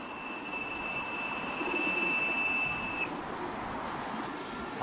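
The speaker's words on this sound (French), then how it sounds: "Ceux-là, là, c'est mes pigeons." Pigeons coo softly in old Beijing on a freezing winter morning, a faint steady murmur of birds under broad outdoor noise with a thin high whine.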